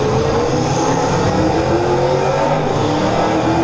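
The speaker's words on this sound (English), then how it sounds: "you can see it with the Koenigsegg running" A Koenigsegg supercar engine runs steadily on display at the Petersen Museum, a loud continuous mechanical drone with a whining tone and no voices over it.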